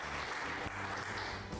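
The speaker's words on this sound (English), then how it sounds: "Thank you for the applause." A short burst of steady applause, a dense wash of clapping heard alone without voices.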